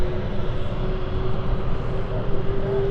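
Airliner engine spooling up on the apron at London City Airport, a steady loud roar with a sustained whine running throughout, faint voices mixed in beneath.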